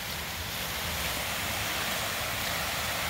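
Water display at The Alnwick Garden churning steadily, a broad continuous rushing wash heard close up and loud with no break.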